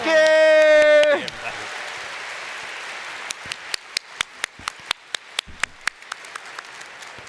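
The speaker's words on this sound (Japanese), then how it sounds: "One more big round of applause, please." An audience at FFXIV Fan Festival applauds. A brief voice sounds at the start, then a broad wash of clapping thins out into scattered, sharp individual claps.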